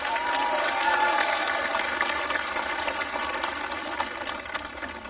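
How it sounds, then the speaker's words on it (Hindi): A crowd at a motivational business event in Indore claps loudly and steadily, an enthusiastic round of applause that fades slightly toward the end. "सबसे पहले एक जोरदार तालियां आज आप अपने लिए।"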